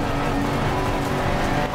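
A Bongo van race car roars past on the right during a Tuesday night track practice, with loud, close engine noise filling the whole moment without a break.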